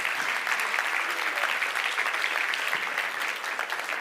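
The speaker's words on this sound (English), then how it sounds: "Ladies and gentlemen, please give a big round of applause to our Pinnacle Panel." Audience applause for a Q&A panel, steady dense clapping from a sizeable crowd, continuous and fairly close, with no voices over it.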